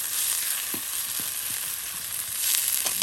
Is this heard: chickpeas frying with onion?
yes